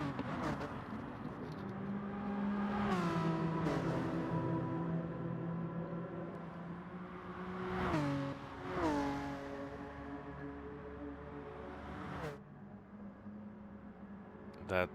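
Sim racing cars, including an NSX, rev and shift through corners, engine tones climbing and dropping repeatedly as cars pass, moderately loud, with a commentator talking over them.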